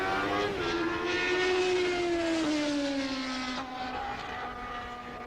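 Vintage 1978 Formula 1 cars racing at Jarama, a Lotus passing a McLaren, engines howling loud and steady at high pitch with one note sliding gradually downward as a car draws past.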